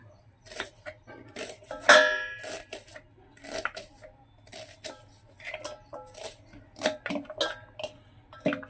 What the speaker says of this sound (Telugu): ఉల్లిపాయలు మొత్తం ఇలానే కట్ చేయాలండి